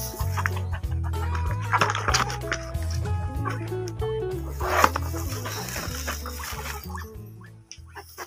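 Chickens clucking and crowing close by, a busy flock with overlapping calls and some background noise.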